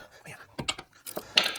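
A ratchet clicks in short bursts loosening 14 mm bolts on the brakes of a 2011 Nissan Rogue, quick metallic ratcheting with faint murmured speech mixed in, close-up.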